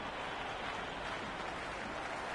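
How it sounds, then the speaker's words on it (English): A cricket crowd at a women's match cheers and applauds in a steady, dense roar of clapping and voices, heard from a distance without any commentary over it. "Will you listen to that crowd? They are loving this."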